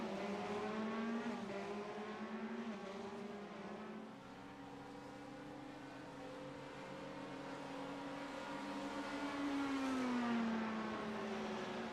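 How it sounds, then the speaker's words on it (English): Race cars, a Corvette among them, lapping Sonoma Raceway, with a steady droning engine note that rises and falls in pitch as the cars accelerate and brake, continuous and moderately distant. "But man, that Corvette just so good under braking."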